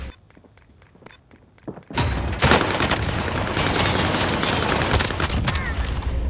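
QBZ rifle fire in Call of Duty: Warzone on Rebirth Island, a few spaced sharp taps giving way to a loud, dense sustained burst of shooting and impacts.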